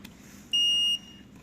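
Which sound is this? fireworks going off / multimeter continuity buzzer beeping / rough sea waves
multimeter continuity buzzer beeping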